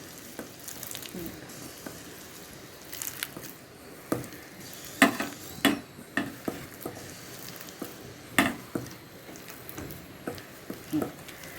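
Hot oil sizzles steadily, broken by a run of sharp crackles and pops as cabbage pakora batter fries, close by with no talking.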